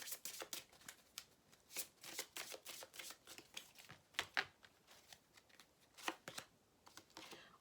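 A deck of oracle cards is shuffled in quiet, crisp flicks and riffles, repeated in an uneven rhythm close by, with no voice over them.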